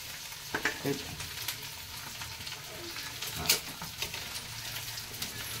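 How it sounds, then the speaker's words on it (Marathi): Green chillies and coriander crackle faintly in a pan while being stirred for Maharashtrian poha, a soft continuous sizzle broken by a few light scrapes of the spoon. "मिरच्या टाकल्या की त्याला थोडं हलवायचं"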